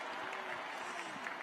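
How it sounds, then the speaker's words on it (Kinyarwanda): Applause fills a church service during Rwandan gospel worship with the Jehovah Jireh choir, a steady dense clapping from a congregation that runs without a break for a moment. "abishimye bongera imana amashyi menshi"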